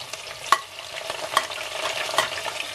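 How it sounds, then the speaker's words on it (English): Steady crackling sizzle of vegetables frying in hot oil, with a few sharp pops and soft stirring scrapes, no voices. "You can hear it sizzling."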